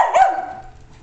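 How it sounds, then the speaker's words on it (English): A single sharp dog bark, close and loud, fading quickly into quiet. "Why are you barking?"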